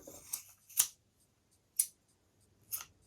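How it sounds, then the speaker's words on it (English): Big sharp sewing scissors chop through a super-chunky yarn tassel in a few crisp, separate snips spaced about a second apart, close up with quiet gaps between them. "I've got big sharp sewing scissors here, and I'm just going to chop that like that."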